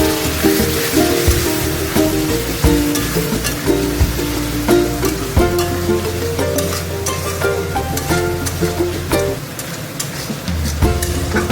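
Spices, tomato and a little water sautéing in a hot pan, a steady close sizzle and crackle with scattered clicks of stirring throughout.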